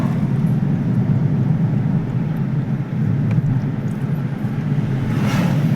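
A car rolls along a rough, pothole-ridden road in Assam, its engine and tyre rumble forming a loud, continuous low drone with faint knocks and rattles, no voices.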